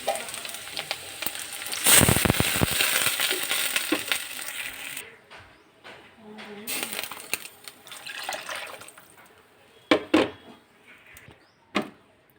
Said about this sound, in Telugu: ఇప్పుడైతే ఇందులో వాటర్ యాడ్ చేద్దామండి.